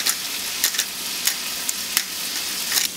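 Onions sizzle steadily in a hot pan, a bright continuous frying hiss broken by a few sharp scrape-and-stir clicks, close and alone with no talking.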